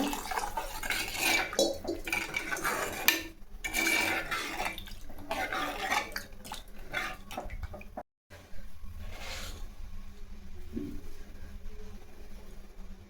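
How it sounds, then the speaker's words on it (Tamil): Water is poured into a cooking pot of sambar in a kitchen. A splashing pour comes first, then clinks of metal pots and utensils, a short pause and quieter handling. All sounds are close and moderately loud. "அரை லிட்டர் தண்ணி ஊற்றிங்க"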